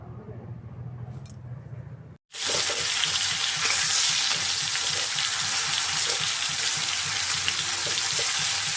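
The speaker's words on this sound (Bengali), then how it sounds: "এইভাবে আমি মাছগুলোকে উল্টে পাল্টে ভেজে নিয়েছি" Prawns fry in a pan after a quiet start, then break into a loud, dense, steady sizzle that holds without pause until the end.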